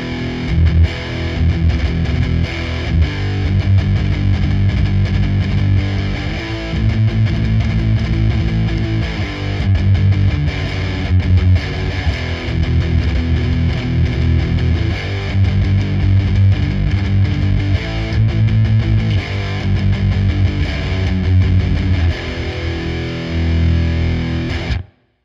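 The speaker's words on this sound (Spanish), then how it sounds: "Bueno, ahí es con toda la distorsión." Electric guitar through a Stak Fx Hunab Ku distortion pedal with the distortion fully up, played continuously and loudly with dense, sustained riffs and chords, ending abruptly.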